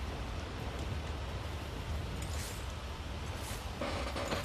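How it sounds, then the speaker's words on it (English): Steady rain backdrop in the dark survival game BELOW, a dense even hiss of falling rain held at a constant moderate level throughout, with no talk over it. "it's just a standard rain kind of backdrop here"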